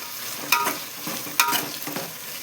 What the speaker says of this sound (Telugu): ఉల్లిపాయలకి నూనె ఇలా మొత్తం అంటుకోవాలన్నమాట